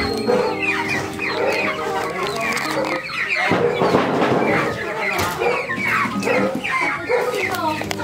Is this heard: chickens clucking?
yes